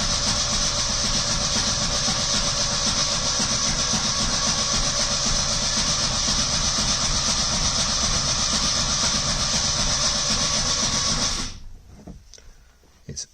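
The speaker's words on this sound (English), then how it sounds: "it's noisy because of the flywheel" The rebuilt engine of a 1970 Lancia Flavia Milleotto LX runs on its first start with no drive shafts fitted, a loud, steady, noisy drone for about eleven seconds before cutting off abruptly, leaving faint clicks.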